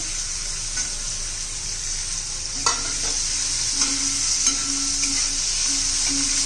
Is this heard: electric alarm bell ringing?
no